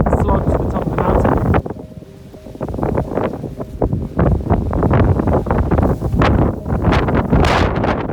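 Gusting wind buffets the microphone high on a snowy mountain slope near a rocky spire, loud broadband roaring that surges and eases in uneven bursts throughout.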